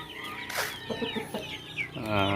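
Hens cluck softly in a short run, then a rooster crows close by at the end, on a free-range chicken farm.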